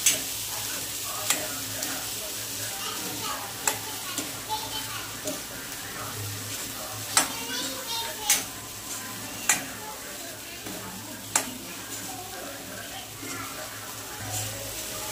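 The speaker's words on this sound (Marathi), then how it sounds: "मस्तपैकी असे वांगे आपले परतलेले आहेत, म्हणजे मसाले जरा तळलेले भाजलेले आहेत।" Eggplant sautés with spices in a pan for khar vanga, a low continuous sizzle broken by sharp spatula clinks and scrapes at irregular intervals, with voices talking in the background.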